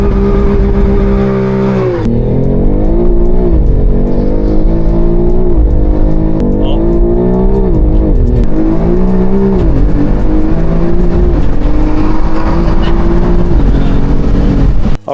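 BMW X3M engine revving hard, a loud, close, sustained roar with repeated rises and dips in pitch as the throttle is blipped, ending abruptly.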